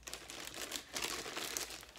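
Crinkling plastic packaging being handled while unboxing an Arturia MiniLab MkII MIDI keyboard: a steady, close run of crackling and rustling that lasts throughout.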